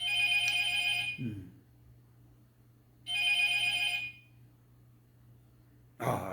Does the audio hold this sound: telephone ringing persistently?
yes